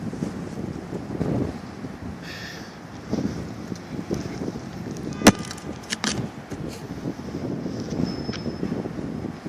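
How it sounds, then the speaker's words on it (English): Strong outdoor wind gusts buffet the microphone in a steady broadband rush, swelling and easing over several seconds, with a sharp knock near the middle and faint sounds in the background. "Wind got a little strong."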